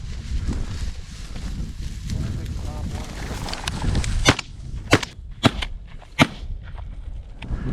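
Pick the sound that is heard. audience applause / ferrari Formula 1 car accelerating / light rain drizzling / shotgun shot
shotgun shot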